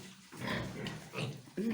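A young boar pig with a docked tail grunts in a barn, several close, rough snorts in quick succession with no talk over them.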